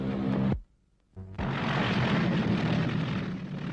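A Lockheed P-38 Lightning's twin engines roar loudly overhead, broken by a brief near-silent gap before the heavy, broadband drone returns and holds steady.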